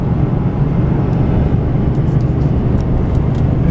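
A car driving up a paved road toward a rural ranch, heard from inside as a loud, steady rumble of engine and tire noise with a constant low roar and no talking.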